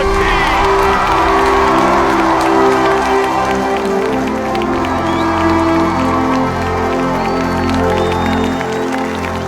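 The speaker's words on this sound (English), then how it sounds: "listening to the thunderous applause from the audience, Ethan experienced genuine recognition" A large audience at a competition award ceremony breaks into loud applause mixed with cheering, whoops and children's shouts, a dense, continuous roar sustained across the whole stretch.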